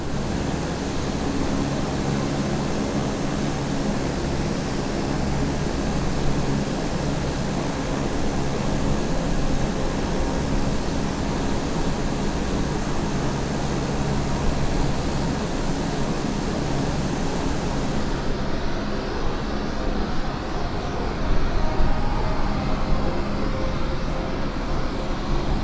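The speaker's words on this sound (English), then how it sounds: "You can hear the airplane creaking around." C-130J airplane flying inside a hurricane, a steady loud broadband roar of engines and wind filling the cabin throughout, with the airframe creaking faintly beneath the continuous noise.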